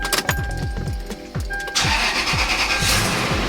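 A Toyota Land Cruiser 100 (LX470) engine cranks with a rapid, rhythmic starter churn for under two seconds. It then catches and settles into a steady, close idle.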